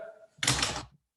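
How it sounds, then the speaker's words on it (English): A quick rip of fabric torn by hand for a book cover, one short close ripping burst lasting about half a second before cutting off to quiet. "Fabric tears very nicely."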